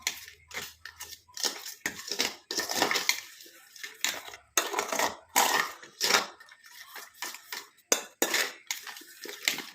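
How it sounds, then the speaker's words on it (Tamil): Powder being stirred into prepared raw mango in a bowl, giving busy clinking, scraping and crunchy mixing noises in close, irregular bursts with brief pauses. "ஆட் பண்ணிட்டு நல்லா நம்ம கலந்து விட்டுடலாம்."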